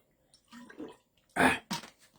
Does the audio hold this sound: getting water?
yes